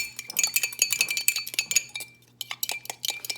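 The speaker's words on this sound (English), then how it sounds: "I'll just give it a little stir" Spoon stirring stuffing in a dish, a quick series of close, bright clinks and scrapes against the dish with short irregular gaps between strokes.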